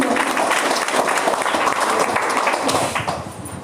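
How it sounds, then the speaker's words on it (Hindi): Loud applause from an audience at an RCM business seminar, a thick burst of clapping that holds steady for a few seconds before fading. "चलो एक बार जोरदार तालियां बजा दीजिए अपने लिए"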